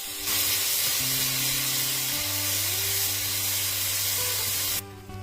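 Onion paste dropped into hot oil with dried red chillies and whole cumin, bursting into a loud, bright, steady hiss that holds for several seconds then cuts off abruptly, close by, with a low tonal hum beneath and no voices.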